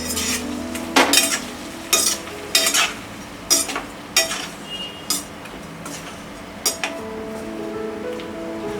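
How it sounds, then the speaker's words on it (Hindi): Boiled eggs tossed with turmeric and red chili powder in a pan for egg biryani, a spoon clinking and scraping against the metal in about ten sharp, irregular strikes over a low sizzle, close and fairly loud. "ये हल्दी पाउडर और ये रेड चिली पाउडर। मिक्स कर देते हैं।"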